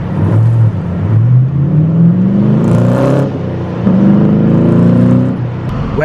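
An LS3 V8-swapped Toyota Supra Aero Top drives off nearby, its engine revving up through rising pitch sweeps with a brief gear-change dip, loud and close throughout.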